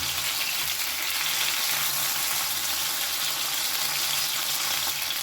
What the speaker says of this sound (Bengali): এই পিসটাও খুব ভালো করে ভেজে নেব